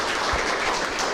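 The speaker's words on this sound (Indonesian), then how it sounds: "tepukan, ya" An audience applauding at a health talk in Keningau, Sabah, with a dense, steady wash of many hands clapping throughout a brief moment.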